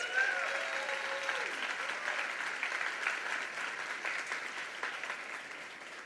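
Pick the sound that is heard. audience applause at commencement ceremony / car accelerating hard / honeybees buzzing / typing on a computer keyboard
audience applause at commencement ceremony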